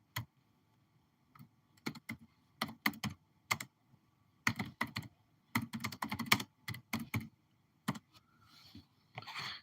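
Fingers type on a computer keyboard up close, tapping out irregular bursts of quick clicks separated by short pauses, with a softer scraping or rustling noise late in the sequence.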